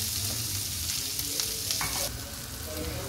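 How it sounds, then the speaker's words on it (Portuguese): Onion sizzling in a pot with garlic and rice, a dense steady frying hiss with occasional stirring clinks, heard up close and quieter near the end. "Agora eu vou colocar a cebola. Vou deixar ela dar uma seladinha também."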